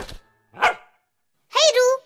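A cartoon dog barks in short, loud, close bursts, three barks in quick succession with brief gaps between them, the last one double and more tonal.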